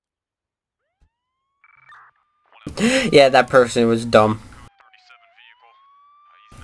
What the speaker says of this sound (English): Your police car just sitting with the sirens going, just staring at him.